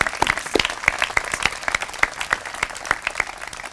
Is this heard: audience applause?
yes